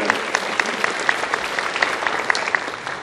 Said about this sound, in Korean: 먼저 축복 박수 한번 부탁드립니다.